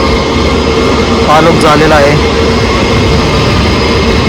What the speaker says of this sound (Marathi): तो विमान पूर्ण तिकडे लँड झाल्यानंतर मग इकडनं बॅक साईडून अजून एक विमान आहे